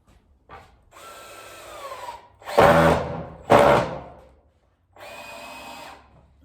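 Power drill driving screws to fix salvaged industrial material to a wall, with whirring bursts of varying length, the middle two louder and straining, then a final steady run.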